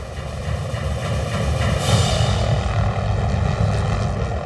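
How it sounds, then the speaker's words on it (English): A small helicopter flies overhead, its engine and rotor making a steady, loud drone that swells slightly at the middle and then eases, with no voices heard. "Being a smaller helicopter, it's affected by the winds more so than larger helicopters would be."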